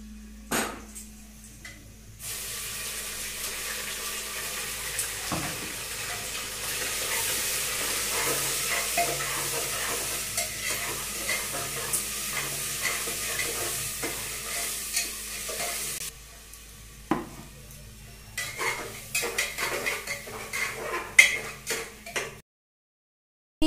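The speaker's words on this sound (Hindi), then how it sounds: "चलो ये मसाला ग्राइंड करके रखी हूँ, ये अभी मैं फ्राई करूंगी करी के लिए" Ground masala for mutton curry fries in a pan with a continuous soft sizzle that starts abruptly. It drops lower partway through, and scattered clinks and taps from utensils follow before the sound cuts off.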